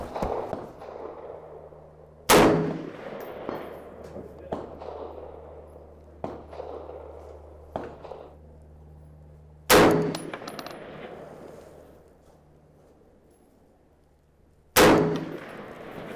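Springfield M1A rifle fired at steel targets on an outdoor range at 300 yards: three loud, sharp shots spaced several seconds apart, each followed by a ringing tail and fainter distant clangs of impacts, with quiet ambience between.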